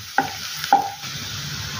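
Onion sautéing in oil over a medium flame for a Maharashtrian tomato chutney, a soft, even sizzle with two sharp spoon knocks against the pan near the start.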